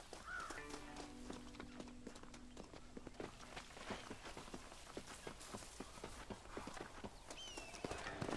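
Hooves of a horse in Red Dead Redemption clip-clop in a quick, steady walking rhythm throughout, close and clear over a faint ambient bed, with no talking.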